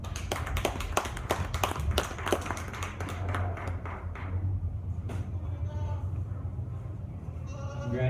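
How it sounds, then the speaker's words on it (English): Audience applause for the kids showing goats at a county fair, a burst of scattered sharp claps that thins out and fades after a few seconds, with a goat bleating and voices in the background. "Please give those kids a round of applause."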